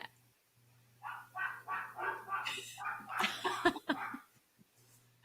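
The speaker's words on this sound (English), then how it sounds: "What's your dog doing?" A dog barks and yips in a quick irregular series of short sounds, fairly faint, over a low steady hum.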